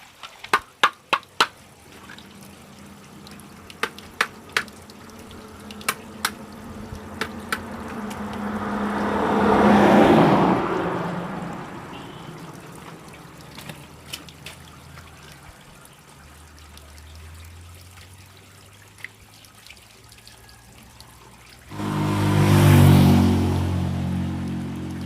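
Water trickles and pours while a pond filter is washed outdoors, with scattered sharp knocks early on, a swelling rush of flow near the middle and another loud surge of water toward the end.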